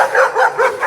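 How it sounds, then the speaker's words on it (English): Dogs bark in a quick series of four loud, close woofs at an even rhythm, each bark a short yelping burst with nothing else heard between them. "The dogs."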